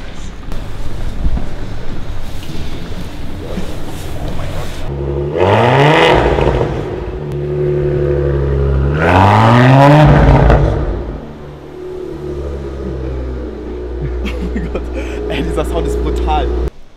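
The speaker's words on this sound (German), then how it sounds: "Der Sound ist brutal. Ferrari baut ja auch die Motoren für Maserati und bei diesem Sound..." A Maserati with a Ferrari-built engine revs hard at a dealership, two sharp rising blips climbing over a rough idle, loud and close, with a steady burble between and after them.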